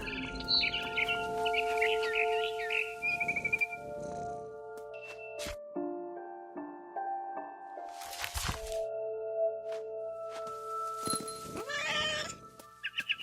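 A cat in What Remains of Edith Finch meows and yowls in short bursts over a sustained layer of game music and ambient tones, with a sharp bird-like chirping flurry near the end.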